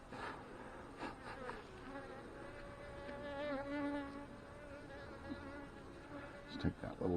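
Honey bees drone around an open hive as a beekeeper works a split, the buzzing close and continuous with individual bees passing near, plus a few handling knocks.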